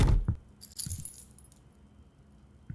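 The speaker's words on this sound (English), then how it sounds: "do I just find the car keys?" Car keys jangling in the horror video game Mooshie's Kitchen, a few short metallic rattles with low thumps between them, close and moderately loud.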